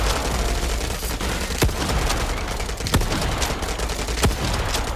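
Shotgun blasts in the World War Heroes shooter game, three sharp reports spaced a second or so apart over a constant wash of distant gunfire and battle noise.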